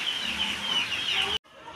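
Chickens clucking steadily at close range, a continuous cackling chorus that cuts off abruptly near the end.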